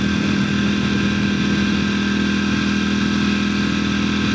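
A motorcycle engine idles roughly while warming up, a loud, close, steady low rumble that holds unchanged throughout with no other sounds.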